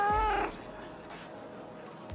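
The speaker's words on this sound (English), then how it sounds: "It is a very elegant cat" A single short, bright meow from an elegant cat in the video game Arknights opens the moment, then gives way to a low, quiet room tone with a faint thump at the end.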